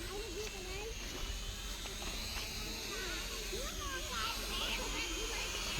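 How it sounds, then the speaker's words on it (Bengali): A camera drone flies overhead outdoors near a field with cattle, its steady high whine holding throughout under close, frequent talking from people nearby. "এই যাও ড্রোন উড়িয়েছে"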